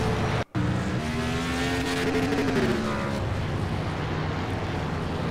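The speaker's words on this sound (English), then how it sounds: "See this guy downshifts there." A race car at Martinsville Speedway downshifting, its engine note dropping in stepped pitch falls after a brief cut, loud and close, then settling into a steady droning roar.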